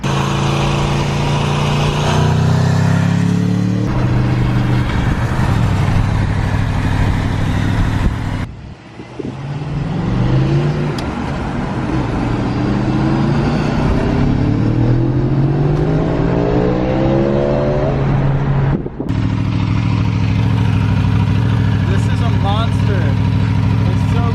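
Aprilia RSV4 Factory superbike engine loud and close, revving and accelerating through rising gear pulls with wind buffeting, under talk.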